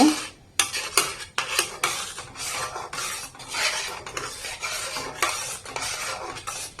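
Thin palm fruit puree stirred in a pot until it thickens, with repeated rhythmic scraping and rasping strokes of a spoon against the metal, loud and close, and no talk.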